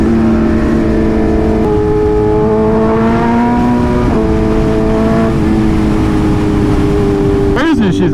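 A loud Yamaha R1 sport motorcycle engine roars up through its revs in city traffic, pitch rising and dropping with gear shifts, steady and close with traffic noise underneath.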